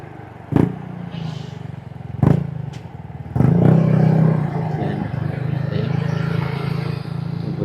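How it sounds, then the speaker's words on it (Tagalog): Big bike motorcycle riding past on a boulevard in Cagayan de Oro City. A couple of sharp clattering knocks come first, then the engine swells into a close, sustained roar that lingers at a steady level. "boulevard yata to dito yan pagkadaming big bike ayos ah nice big bike ang ganda"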